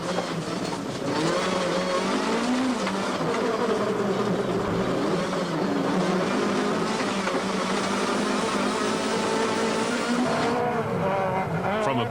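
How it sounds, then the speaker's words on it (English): A 2002 Volkswagen Golf rally car with a right rear puncture drives hard through mud and slush, its engine droning loudly and continuously with a brief dip near the end. "but why was Enzo having to work so hard to keep the Volkswagen on the road?"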